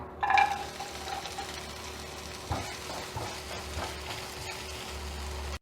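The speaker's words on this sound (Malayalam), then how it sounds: "എന്നിട്ട് നമുക്കൊരല്പം തേങ്ങാക്കൊത്ത് ഇതിലേക്ക് ഇട്ടിട്ട് ഒന്ന് വറുത്തെടുക്കാം" Coconut pieces fry in ghee in a pan while making a wheat ada payasam, giving a steady, soft sizzle throughout with a few slightly louder crackles.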